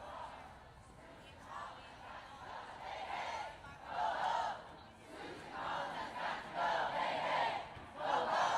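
A large crowd at an ICE protest march in Portland, Maine chants in rising and falling rhythmic waves, heard from a moderate distance as a rough, continuous roar of many voices.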